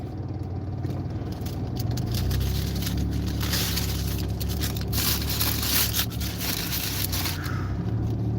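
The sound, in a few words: car driving on a service drive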